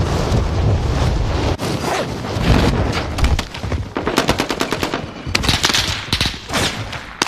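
Gunfight in Call of Duty Warzone: loud, close bursts of automatic gunfire with rapid, rattling shots, heavy at first, then broken into sharp clustered volleys and single cracks.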